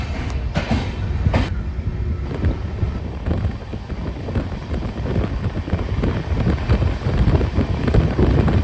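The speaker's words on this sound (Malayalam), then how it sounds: "train number 12512 Raptisagar super fast എക്സ്പ്രസ്സിലുള്ള നമ്മുടെ ട്രെയിൻ ജേർണി ദേ ഇവിടെ ആരംഭിച്ചിട്ടുണ്ട്" Train 12512 Raptisagar Superfast Express running steadily, a continuous loud rumble and rattle of wheels on rail with wind buffeting the microphone throughout, no voices.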